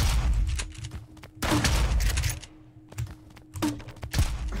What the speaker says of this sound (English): I'm gonna use my grenade launcher